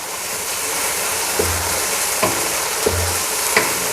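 Beef liver (kaleji) frying in a pan, with a steady sizzle throughout and several short scraping stirs of the spoon at intervals, close up and with no voices.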